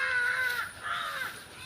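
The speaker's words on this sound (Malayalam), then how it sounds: "നല്ല കാക്കൊക്കെ ഉണ്ട് കേട്ടാ." Crows caw outdoors in two or three drawn-out, harsh calls in quick succession, moderately close and with no one talking over them.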